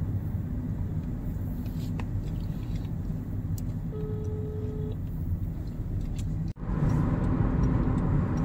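Road traffic heard from inside a moving car: a steady low rumble of engine and tyres, broken near the end by a brief dropout and then a louder rush of road noise.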